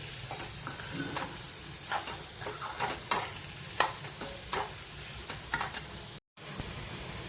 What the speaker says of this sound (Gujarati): મીઠું, મરચું, હળદર, ધાણા જીરું, રાઈ, પછી મેથી બધું નાખ્યું છે।